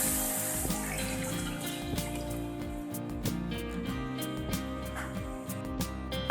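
Water pours steadily into a cooking pot of meat and rice pilaf for several seconds, a continuous splashing, trickling stream close by with faint clinks, no voices.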